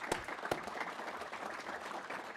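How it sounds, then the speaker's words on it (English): An audience claps for presenters at a policy conference, a brief burst of faint, steady applause heard from a distance with a couple of sharper claps near the start. "let's give applause to the great presenters here"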